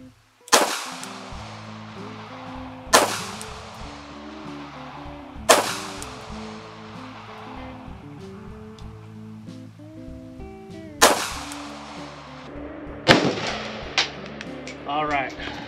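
A Kalashnikov USA KP104 AK rifle firing Tula ammunition: five sharp, loud shots spaced a few seconds apart, each with a ringing, echoing tail that fades over a steady low background.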